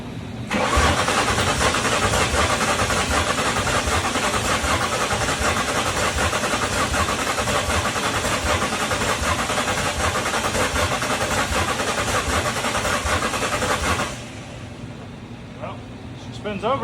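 A 1999 Mustang GT drift car engine cranks over continuously for about fourteen seconds, a loud, rhythmic starter churn that then cuts off, leaving quieter background noise.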